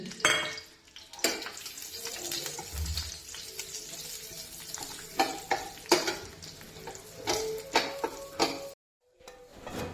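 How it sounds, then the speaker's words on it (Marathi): Dry ingredients sizzle and rattle in a hot pan while a utensil stirs and scrapes them, with sharp clinks throughout and a brief silent gap near the end. "आता हे ड्रायफ्रूट्स आहेत ते यात जरा फ्राय करून घ्यायचे"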